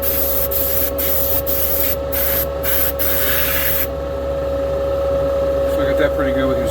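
A spray gun lays a light tack coat onto a race boat part, its hiss coming in several short bursts before cutting off, over a steady mechanical hum that continues to the end.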